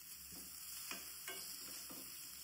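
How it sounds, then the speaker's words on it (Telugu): Onions and ginger garlic paste frying in a pan: a steady hiss of sizzling oil with four or five evenly spaced stirring scrapes, close and fairly quiet, no voices. "ఈ అల్లం వెల్లుల్లి పేస్ట్ కూడా బాగా ఫ్రై అయ్యేలోపు ఈ ఉల్లిపాయలు కూడా ఇంకా బాగా ఫ్రై అవుతాయి."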